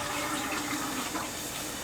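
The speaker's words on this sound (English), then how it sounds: "Turn on the water" Tap water runs steadily from a faucet into a water filter container, a continuous close hiss of flowing, filling water with no voices.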